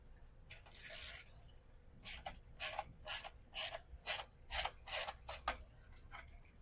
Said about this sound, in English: Just a couple of bolts on each side you got to loosen, and it'll simply just lift right off.